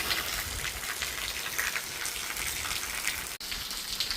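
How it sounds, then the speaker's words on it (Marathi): Rain falls under strong midday sunshine in Ahilyanagar, Maharashtra, making a steady, even hiss of countless drops that runs without pause throughout. "कडक उन्हात पाऊस पडतोय मस्तपैकी"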